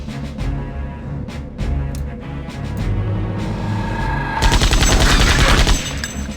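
Gunfire in the turn-based RPG Septerra Core: a burst of rapid shots over a steady game soundscape, growing louder and denser toward the end.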